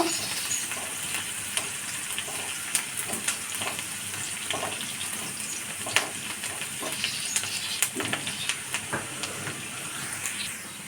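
Steady frying in oil as something is browned for a sweet pumpkin dish, a continuous close sizzle with scattered crackles, pops and occasional stirring clicks, no voices.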